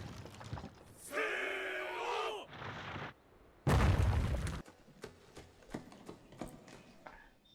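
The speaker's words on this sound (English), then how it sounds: "what are those explosions?" Loud booming blasts and rumbling bursts, one heavy and deep, followed by a series of sharper distant pops and cracks.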